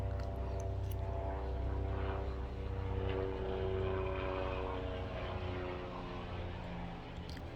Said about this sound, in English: Airplane flying by